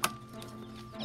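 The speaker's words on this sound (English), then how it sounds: "So anyways, so we have six chicks here." Six-day-old chicks in a box make a few brief, close cheeps within about a second.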